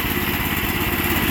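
Small engine idling while warming up with the choke on, a steady close rumble with fast regular chugging pulses throughout.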